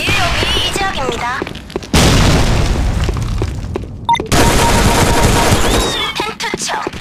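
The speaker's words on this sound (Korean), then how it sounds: "수류탄 투척!" Grenade blasts and gunfire in the game Sudden Attack, with two loud explosions each followed by a sustained roar of shots. A player's voice is heard at the start.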